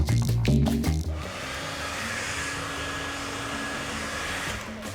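A Remington hairdryer runs steadily on medium heat and high speed, a loud continuous airy whoosh with a faint whine that holds for several seconds after a brief burst of handling noise at the start.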